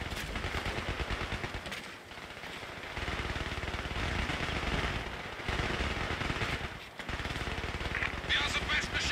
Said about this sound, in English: We are the best machine gun crew in the army.